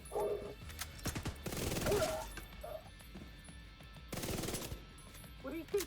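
SMG gunfire in a video game: two rapid bursts of close, crackling shots, separated by a quieter stretch with faint game voices in the background.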